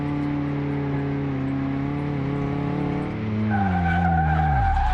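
In the Car Mechanic Simulator 2018 game, a car's steady engine drone on a test rig lowers in pitch as the brakes are applied, ending in a sharp squealing skid, loud and without talk.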